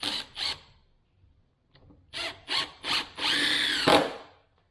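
Power drill driving a screw to mount a hinge on a barn, several short whirring bursts followed by a longer sustained run, close and fairly loud with quiet gaps between.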